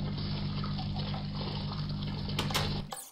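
Steady flowing water from a water mill in the Minecraft video game, a continuous close rush that runs for nearly the whole span before cutting off abruptly near the end, with no talking over it.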